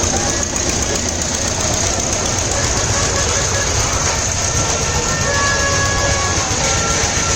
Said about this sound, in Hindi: इसका एक बार इंजन देखो कितना हेवी इंजन लगा हुआ है इसको चलाने के लिए।